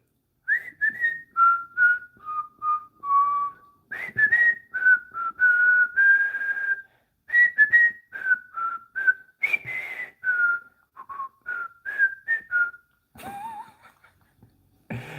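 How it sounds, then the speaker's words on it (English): A single person whistling a wandering, melodic tune alone in a quiet room, phrases broken by short pauses and ending with a breathy note. "You could whistle. Yeah, whistling is good."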